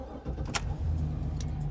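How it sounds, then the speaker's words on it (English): A truck engine starts up on a farm during grain harvest: a short crank, then the motor catches and settles into a steady low idle close by, with a faint jangle of keys. "So I'm going to take my uncle's truck"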